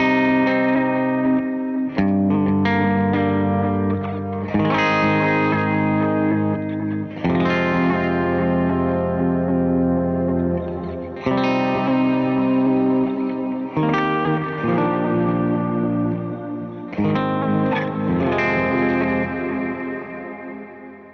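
Sustained electric guitar chords with bends, washed in swirling modulation from a Meris LVX pedal and trailing echoes, played continuously without any voices.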